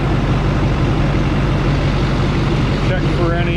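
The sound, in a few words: Duramax diesel engine idling with loud clicking noise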